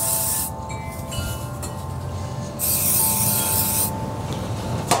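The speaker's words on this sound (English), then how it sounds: "and I'll spray the edges." Spray bursts misting the edges of a freshly assembled and clamped table saw sled in a workshop, two long loud hissing blasts with a shorter one at the end, over a steady low hum.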